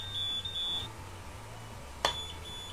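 A Shelly Flood water leak sensor gives a high electronic beep, short and fairly faint, followed by a sharp click a moment later in a quiet room.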